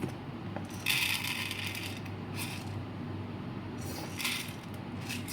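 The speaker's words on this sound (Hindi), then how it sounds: "चावल डाल दी" Dry rice grains poured into a cooking pot in a home kitchen during an evening routine, a loose rattling shower with brief brighter bursts over a steady background hum.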